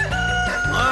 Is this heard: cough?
no